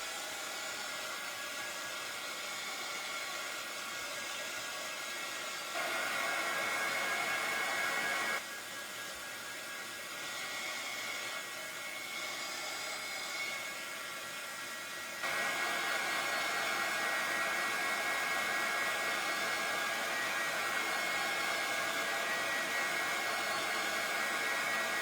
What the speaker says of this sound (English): I'll hit this with the heat gun a little bit